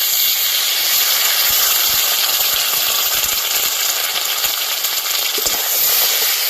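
Green chillies, turmeric, Kashmiri chilli powder and ground cumin sizzling with potatoes in hot oil in a pan, a steady loud hiss and crackle running unbroken throughout with no talking.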